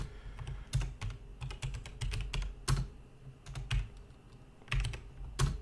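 Typing on a computer keyboard, irregular bursts of crisp key clicks with short pauses between runs, close and moderately loud, no talking.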